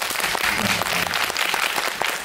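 Audience applause at a Korean film screening's guest talk event, a dense steady wash of clapping filling the room at full level, with a faint voice underneath.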